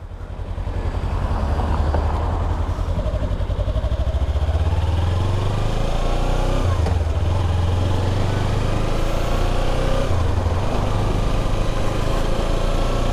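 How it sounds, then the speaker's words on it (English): A 2016 Kawasaki Ninja 300 motorcycle being ridden: a continuous loud engine drone with rising and falling revs, mixed with wind rush, heard close throughout with no talking. "This is my Kawasaki Ninja 300 2016 model."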